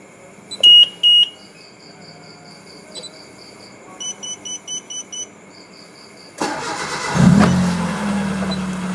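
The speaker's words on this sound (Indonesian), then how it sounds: "Sekarang kita starter kembali ya." A Mitsubishi Lancer engine being started: several electronic beeps and chimes first, then the starter catches and the engine fires into a loud, steady idle close by.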